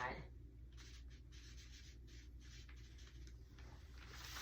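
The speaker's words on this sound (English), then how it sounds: "So I'm going to write side seam on this side." A pen writes on skirt pattern paper, short close scratchy strokes in quick bursts over quiet room tone.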